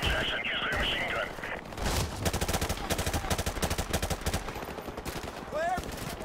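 Rapid machine gun bursts in Call of Duty Modern Warfare Remastered, a fast rhythmic stream of close shots after a brief lull, with a voice speaking over the start.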